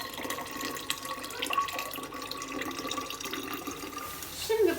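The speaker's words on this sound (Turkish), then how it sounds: "Bir süzgeç yardımıyla süzüyorum." A lime drink is poured through a sieve, giving a steady, faint trickle of liquid that runs throughout with a brief clink near the end.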